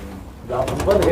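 High-flying pigeons in Sonipat, Haryana coo in low, throaty warbles that swell up after a muffled start, close and fairly loud over a steady background hum.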